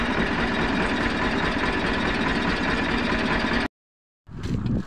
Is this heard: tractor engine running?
yes